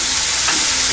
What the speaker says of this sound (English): I'm going to add our crushed ginger and garlic paste